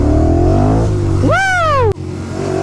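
A 2016 Motus MSTR V4 motorcycle, 180 hp, idles loudly, then revs sharply upward while being ridden, and the engine note drops abruptly as the throttle closes.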